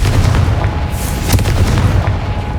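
A Confringo blasting spell from the Hogwarts Legacy video game detonates in a loud, booming explosion with a sharp crack, followed by a rumbling burst and debris that stays dense and forceful throughout.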